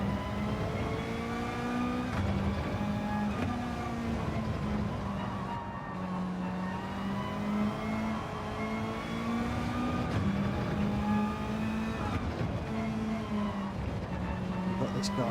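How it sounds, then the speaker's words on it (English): Race car engine in Gran Turismo 7 Gr.4 lobby racing, a steady droning note rising and falling as the car slides around on worn tyres, continuous and fairly loud with a voice talking over it at times. "Got this car sliding around now."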